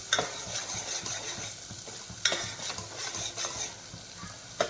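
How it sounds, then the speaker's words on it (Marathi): Masala sautéing in oil for a Kolhapuri-style black mutton curry, with steady close sizzling and frying crackle under repeated scraping strokes of a spoon stirring through the pan, and no talk. "याला तेल सुटेपर्यंत चांगला परतायचा आहे मसाला आपल्याला."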